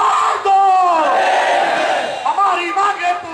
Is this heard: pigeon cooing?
no